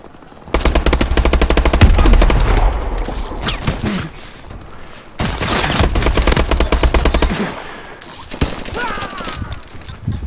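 Loud, rapid automatic gunfire from a gun in Call of Duty: Advanced Warfare multiplayer, fired in two long sustained bursts with a shorter third burst, close and dominant.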